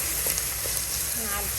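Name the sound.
tripe frying with onions in a pan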